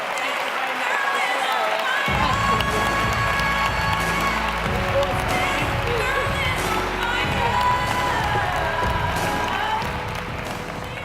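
Audience at a public event cheering and applauding as a magazine editor-in-chief is introduced, starting with faint clapping before a loud, sustained wave of crowd noise and cheers rises and holds.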